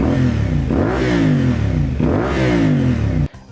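A CFMOTO 450SS motorcycle with a Yoshimura aftermarket exhaust revs hard twice in quick succession, loud and close, with a deep raspy exhaust note rising and falling, then cuts off abruptly.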